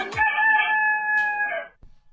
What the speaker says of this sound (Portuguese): Agora só falta ele, meu galo.